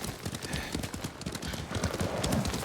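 Horse hooves clip-clop steadily in Ghost of Tsushima, a dense run of fairly loud, irregular hoofbeats across the whole stretch, with a faint whinny possible near the end and no talk.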